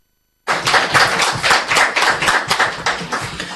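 Applause after a speech at a post-cabinet press briefing: a crowd claps steadily and loudly, a dense, continuous patter with no talk that starts abruptly after a short silence.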